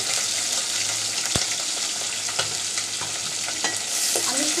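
Dried ribbonfish frying with onion and chopped garlic in a pan: loud, continuous sizzle with a spatula stirring and scraping, several distinct knocks against the pan over a dense crackling hiss.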